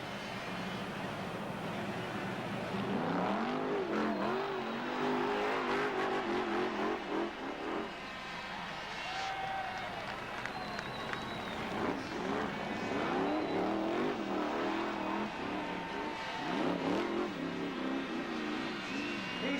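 BriSCA Formula 1 stock car engines roar and rev at the Bradford track, a dense, sustained growl with rising and falling revs from several cars.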